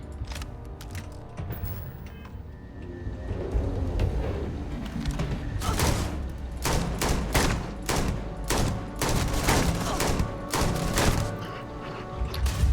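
Rapid bursts of gunfire in the Starfield video game crack out in repeated volleys over a busy, layered game soundscape, growing denser and louder in the second half.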